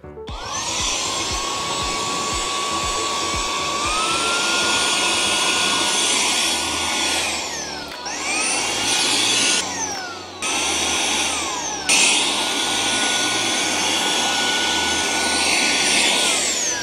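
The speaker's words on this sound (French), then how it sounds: "on est quand même avec un aspirateur qui est très très long et qui permet d'aller nettoyer dans des coins" A Proscenic S1 vacuum cleaner with a very long body runs loudly and steadily, its motor whine rising in pitch after a few seconds, then cutting out and restarting twice in quick succession before holding at full power again.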